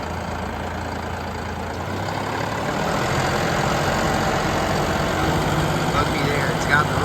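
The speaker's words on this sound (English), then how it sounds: "here we have a 2023 John Deere 5075E, 75 horsepower, front wheel assist" A 2023 John Deere 5075E tractor with a 75-horsepower engine and front wheel assist runs steadily nearby, a low diesel rumble that swells slightly partway through, with someone talking over it.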